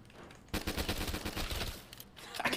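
Rapid pistol fire in Black Ops 3 Zombies, a dense burst of close, loud shots lasting about a second and a half, followed by a pause and then a few more quick shots.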